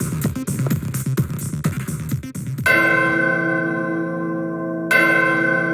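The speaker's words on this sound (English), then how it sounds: "opens if you ring the bell?" A video game bell rings loudly and sustains, struck twice with a bright ringing tone that hangs in the air after some clattering game noise.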